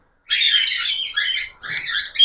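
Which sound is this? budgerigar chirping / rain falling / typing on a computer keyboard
budgerigar chirping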